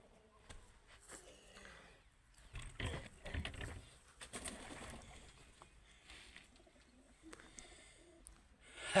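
Soft pigeon coos mixed with fluttering and scuffling sounds, fairly quiet and close, with intermittent rustling noise.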